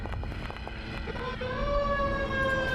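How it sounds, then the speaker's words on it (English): Emergency vehicle sirens wail outdoors, their rising tones growing louder and clearer over a low rumble of traffic. "there's a lot of sirens today"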